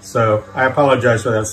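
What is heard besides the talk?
None of the usual background noises is heard.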